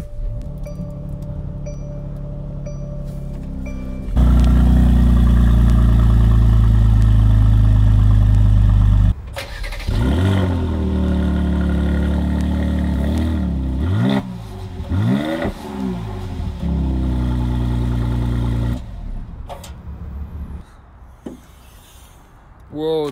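A 2020 Mercedes-AMG GLC 43 Coupe engine cranks to life at a push-button start with a loud roar, then revs and settles into a steady idle, with a few higher rev bursts near the end.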